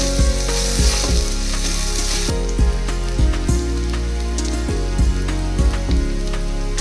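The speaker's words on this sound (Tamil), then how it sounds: "பெரிய வெங்காயம் சேர்த்துக்கலாம். கூடவே கொஞ்சம் கருவேப்பிலை சேர்த்து நல்லா வதக்கிக்கலாம்." Sliced large onions and curry leaves frying in hot oil in a pan, a steady loud sizzle with the crackle of stirring and repeated scrapes of a spoon against the pan, no voices.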